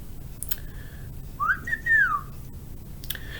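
A person whistles a short two-note call, a rising then falling tone, imitating a chickadee's song; faint and isolated against a quiet background.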